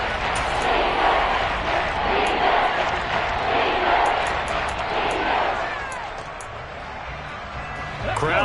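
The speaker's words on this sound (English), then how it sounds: "Crowd getting in it a bit already." A large crowd at a football game in a stadium roars in a steady, loud wash that dips slightly before swelling again at the end, with a broadcast voice heard over it.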